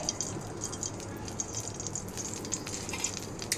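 Ghee sizzling in a pan while a chicken curry gravy is started, a steady frying crackle with small bright pops and spits throughout, fairly close and even in loudness.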